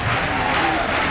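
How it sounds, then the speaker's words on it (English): A high school boys' basketball crowd roars steadily in a gym, a dense, loud wash of cheering and shouting during the tense final minute of a close game. "The crowd's starting to get into it, Dave."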